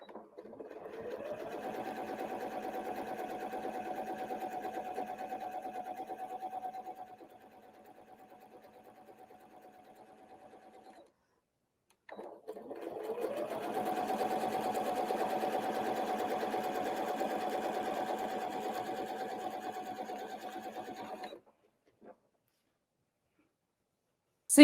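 A sewing machine stitches a curved line on a quilt guided by quilting rulers, humming steadily up close in two long runs split by a short pause.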